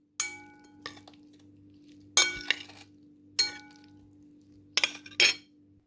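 Eggplants in honey sauce are served onto a plate, with four or five distinct clinks of utensil against dishware separated by quiet gaps, close and crisp.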